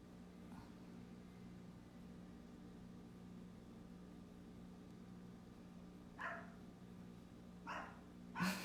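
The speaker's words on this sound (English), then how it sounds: "Can you hear my dogs?" Dogs barking in the distance inside a home, a faint short bark early on and then a few louder separate barks toward the end over a steady room hum.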